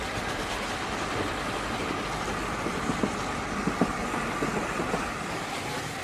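A steam locomotive hauls a train at speed, a dense, roaring rush of noise with faint rhythmic knocks and clanks running beneath it, loud and continuous throughout.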